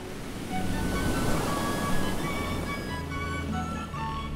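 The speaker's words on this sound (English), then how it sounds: "And then there was the first time they saw the ocean." Ocean waves and surf wash steadily in a broad, hissing roar with light wind, rising after a quiet start and holding at a moderate level, with faint tonal sounds drifting above and no voices.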